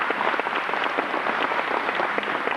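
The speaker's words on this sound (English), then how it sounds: "So, a round of applause is in order." Audience applause fills an anniversary function for the Gateway Eagles, a steady wash of many hands clapping at close range with no talk over it.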